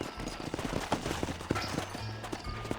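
Horse hooves clopping in the Red Dead Redemption video game, with gunfire and a faint neigh mixed in. Muffled voices are heard under the sounds.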